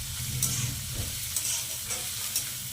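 Onions with a little salt frying in a pan until reddish-brown, a steady low sizzle with soft stirring scrapes repeating about once a second, no voices.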